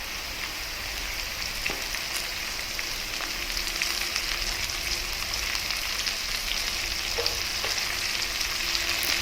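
Cubed pumpkin frying in a pan for a pumpkin curry gives a soft, continuous sizzle with faint crackles and the occasional clink, steady and quiet throughout with no talking.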